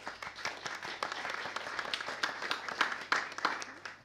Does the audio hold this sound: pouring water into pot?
no